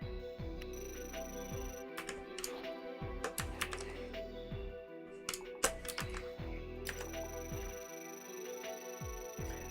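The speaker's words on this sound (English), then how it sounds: "While I love this keyboard, I do sometimes question if I should switch to a quieter one for recording." A clicky mechanical computer keyboard types in quick, sharp bursts of keystrokes close to the mic, with strategy game sounds and music playing softly underneath.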